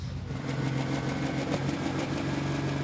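A pro stock pulling tractor's engine idles with a steady, even mid-pitched rumble, close and continuous throughout.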